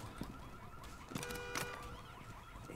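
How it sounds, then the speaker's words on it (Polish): An electronic alarm in the video game Rainbow Six Siege wails in a steady, repeating tone with sharp game effects layered over it and no talking. "Weź tu zabij ten alarm"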